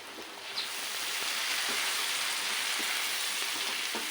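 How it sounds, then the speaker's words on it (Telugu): Mushroom curry sizzling in a pan in village-style cooking, a steady, moderately loud hiss of frying with faint stirring taps and no talking. "ఈ కర్రీ అండి ఇలా ఫ్రై అయింది కదండి"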